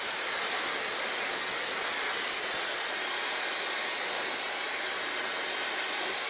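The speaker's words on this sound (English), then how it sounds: "I always flip my head over and blow dry" A hair dryer blows on hair with the head flipped over, a loud continuous close-up rush of air that holds steady throughout with no pauses.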